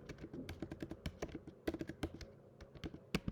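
Close, steady typing of a command on a computer keyboard: a dense run of crisp keystrokes with small irregular gaps and a few louder key strikes, with no voice.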